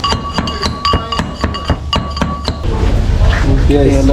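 Hot oil-fried fish being mashed into bhorta at a food stall in Chandpur, with a quick series of sharp rhythmic clinks and knocks, then a denser clatter of cooking and kitchen bustle.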